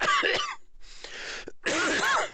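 A few harsh, raspy coughs in quick succession, close and fairly loud, with short pauses between bursts.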